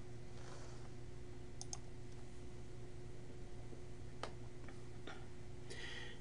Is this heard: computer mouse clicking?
yes